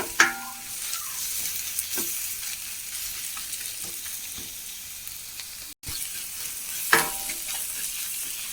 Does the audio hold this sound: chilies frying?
yes